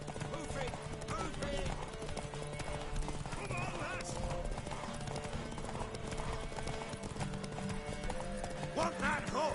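Horse hooves clip-clop steadily in the open-world fantasy game The Witcher 3: Wild Hunt, a mid-distance trotting rhythm mixed with game music, ambience and character voices talking over it.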